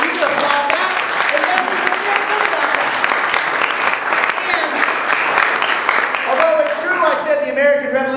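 Sustained audience applause fills a hall at a Move to Amend public meeting in Charleston, West Virginia, a dense steady clapping throughout, with a voice starting to speak over it near the end.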